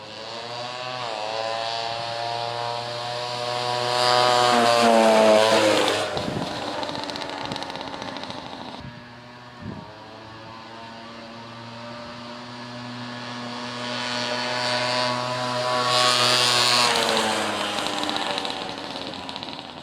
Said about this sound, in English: just as I rev it up and I get up to speed, it kind of cuts out